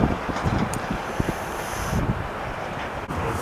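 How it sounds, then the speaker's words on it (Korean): Strong wind blows across an open golf course, giving a steady, loud rushing roar with gusty buffeting and a few low thumps against the microphone, and no voices. "바람 많이 부니까"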